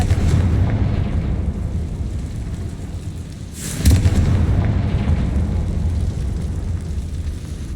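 A Confringo spell explosion in Hogwarts Legacy bursts with a heavy boom midway through, over a loud, continuous rumbling game soundscape.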